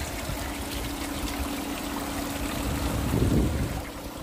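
Steady rush of water flowing through a gold turbine super sluice whose sections have filled up, a continuous broadband wash with a slight swell near the end, no voices.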